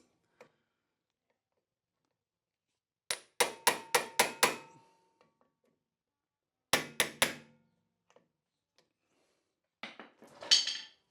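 Two quick bursts of five sharp metallic hammer strikes on a Porsche 911 rear rotor, ringing and evenly spaced, separated by silence, followed by a short rattling clatter.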